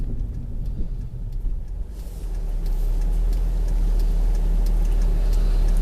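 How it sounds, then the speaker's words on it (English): A 2001 Acura 3.2TL Type S with a 5-speed automatic transmission showing a P1768 clutch pressure control fault, heard as steady engine and road rumble from inside the cabin that grows slightly louder and fuller as the car accelerates. "a bigger street so we can shift all 5 gears"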